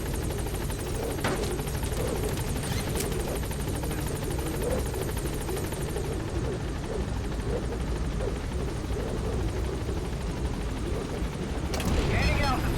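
Helicopter Pequod from the video game Metal Gear Solid V: The Phantom Pain sets down at a landing zone and lifts off, a steady loud rotor drone filling the whole stretch beneath game chatter and effects.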